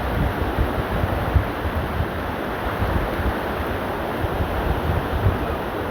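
Floodwater rushes past a house outdoors in a steady, broadband roar that carries no distinct events. Wind buffets the microphone throughout, and nobody speaks.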